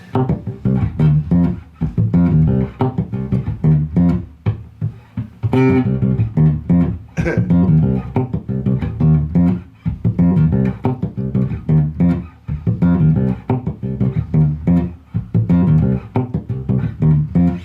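A punchy, percussive bass guitar line with Bartolini pickups, muted right-hand ghost notes and raked strokes, played in a tight continuous funk rhythm, close and loud.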